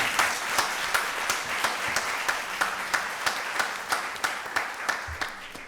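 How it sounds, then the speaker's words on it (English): Applause from a small audience at a Rockdale County Board of Commissioners voting session, fairly quiet with distinct individual claps standing out in a steady rhythm. "Y'all give Stanley another round of applause"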